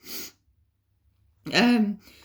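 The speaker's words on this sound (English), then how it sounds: "I'm gonna sneeze." A single sharp sneeze bursts out close and loud from a tarot reader, preceded by a brief breathy intake, with nothing else around it.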